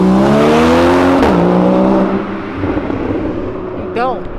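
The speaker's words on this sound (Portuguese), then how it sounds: "tem muito carro passando na Avenida Europa" Traffic rumbles steadily nearby as a car passes on Avenida Europa, a busy avenue in Brazil, with someone talking over the road noise.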